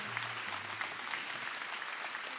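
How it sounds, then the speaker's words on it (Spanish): Audience applause at a stand-up comedy show, a dense, even wash of clapping from a crowd, sustained and moderately distant with no voices on top. "Y fuerte el aplauso que se escuche,"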